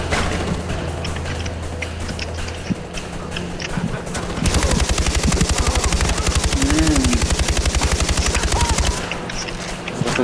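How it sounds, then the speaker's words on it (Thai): Enemy gunfire in the video game Far Cry 4 crackles in dense, rapid automatic bursts, loud and sustained through the middle, with scattered single shots around it and game noise beneath. "กระสุนเยอะเนาะปืนอะไรวะเนี่ย"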